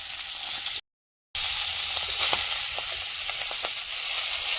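Fish fries in a pan with a steady, close sizzle and hiss and a few small pops, briefly cut by a moment of dead silence.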